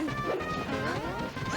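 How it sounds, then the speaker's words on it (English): Down smash attacks in a Super Smash Bros. Melee doubles tournament match: loud, dense crashing impacts and game effects run continuously, with faint voices underneath. "we have 2 down smashes in the middle"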